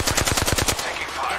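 A rapid burst of about eight gunshots from an automatic weapon in the battle royale game Apex Legends, loud and close, then cutting off into a lingering echo.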